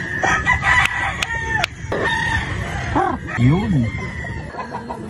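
A straight comb Sweater Boston gamefowl rooster crows and clucks up close and loud, with repeated calls and one long rising-falling crow, while someone talks over it at times.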